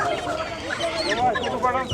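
Chickens clucking close by at a busy rural riverside market, with short overlapping calls above a murmur of crowd noise.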